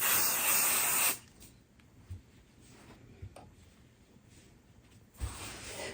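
A short burst of aerosol spray hisses loudly up close onto the back of a fabric nine-patch, then stops, leaving a quiet room with a few soft taps and a brief second hiss at the end.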